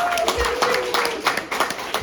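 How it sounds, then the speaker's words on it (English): Saturday-night comedy club audience at Flood Valley Comedy Night in Warrenton, Oregon, clapping: irregular, close claps from a modest crowd, with a voice talking partway through. "Give yourselves a round of applause."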